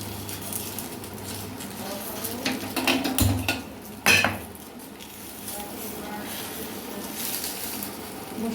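Pan of banana-leaf-wrapped fish, Barisal style, set back on the stove with a couple of sharp metallic clanks and scrapes amid quieter kitchen shuffling.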